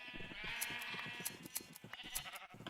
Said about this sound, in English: You can also breed the sheep like this too.